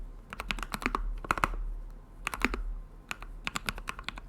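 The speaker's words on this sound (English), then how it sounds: "This keyboard sounds really, really good. For a Tofu 60 aluminum," Typing on a custom Tofu 60 aluminum keyboard: crisp clusters of close keystrokes in quick bursts separated by short pauses, clear and alone without any voices.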